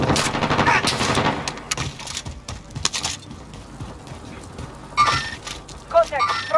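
Bursts of automatic gunfire from a Call of Duty Warzone match on Rebirth Island, loud and rapid in the opening seconds, then scattered shots and sharper electronic effects, with voiced callouts in between.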